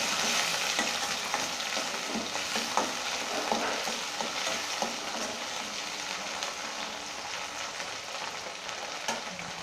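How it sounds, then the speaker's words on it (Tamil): Shallots and a single tomato sizzle steadily in hot oil for a spicy mutton gravy, a dense continuous frying hiss with occasional stirring scrapes and pops, close and fairly loud, no voices. "ஒரு 2 நிமிஷம் வதங்கட்டும்"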